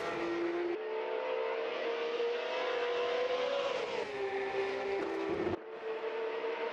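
A Porsche 911 GT3 Cup race car in the Assetto Corsa video game at Circuit Assen gives a loud, continuous engine drone that rises and falls through gear changes, with one brief dip near the end.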